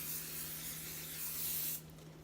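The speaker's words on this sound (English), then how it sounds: "once you're done with that, we're just going to give this a nice good spray." Hairspray sprayed onto curled hair in a half-up, half-down style, a soft, close, continuous aerosol hiss lasting under two seconds before stopping, leaving quiet room tone.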